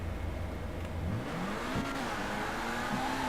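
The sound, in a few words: car accelerating with tires spinning in GTA V video game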